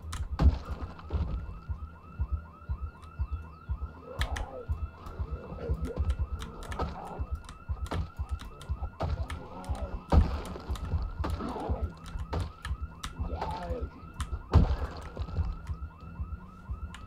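Alarm blaring inside a zombie-filled house in the Project Zomboid video game, a steady pulsing electronic wail held throughout alongside repeated sharp clicks and thuds, with no talk.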